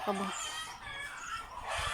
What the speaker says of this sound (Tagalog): ang iingay po ng manok namin. Sobrang iingay nila.